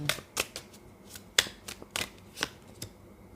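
Tarot cards are shuffled close by in a quiet run of crisp, papery riffles and slaps, about eight or nine quick bursts at an uneven pace, heard alone.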